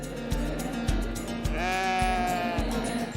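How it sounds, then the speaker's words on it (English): Swiss Valais Blacknose sheep bleat loudly and close at a large sheep show in Carlisle, with one long wavering bleat over a background of repeated thumps and barn noise. "Rob and Dave have come to Carlisle to one of the biggest Swiss Valais sheep shows in the UK"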